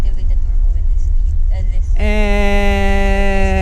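A 1.0-liter three-cylinder turbo engine in a Nissan Almera, heard from inside the cabin: a low road rumble gives way to a loud, steady, strongly tonal engine drone that holds its pitch for the rest of the stretch.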